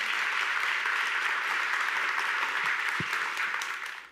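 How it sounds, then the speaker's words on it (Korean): An audience gives a big round of applause for three professors at the end of a science lecture forum, producing a continuous, even wash of clapping throughout that fades slightly at the close. "참석해주신 세 분 교수님께 큰 박수 부탁드리겠습니다"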